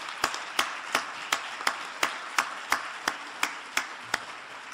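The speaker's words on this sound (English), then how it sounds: "I hope that you will join me in applause for their work in organizing this event" Audience applause at a conference keynote comes through as distinct, evenly spaced claps, about three per second and moderately close, over a faint background wash.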